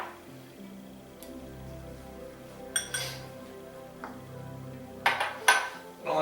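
A bowl set down on a kitchen counter beside a cutting board, a few light clinks and knocks of dishware near the end after quiet handling sounds.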